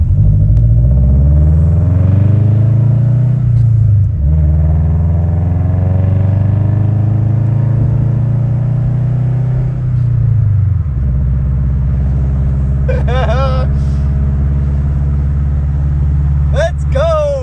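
A Subaru car engine rumbles steadily from inside the moving car, a deep continuous drone with shifting harmonics as it changes pace, and a voice speaks briefly over it near the end.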